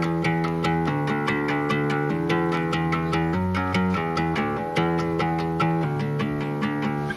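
A guitar string is pulled down to bend the pitch, imitating the wavering wah of a gourd harp. It plays a steady, repeating run of plucked notes close up, with no voices.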